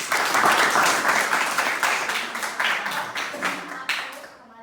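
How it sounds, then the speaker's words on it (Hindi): Audience applause at a theatre session of a drama school follows a play, with lively clapping that stays fairly close and full before thinning out and stopping near the end. "आप सबके लिए तालियां।"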